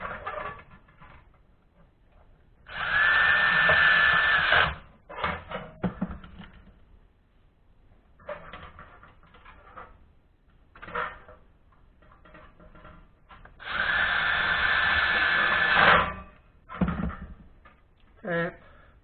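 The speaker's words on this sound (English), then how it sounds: "Now I'm going to lay this one over the top and put screws in there." Screws being driven by a power driver into Case IH 8010 combine tin panels: two loud, steady whirring bursts of a couple of seconds each, separated by quieter handling clatter, with no speech.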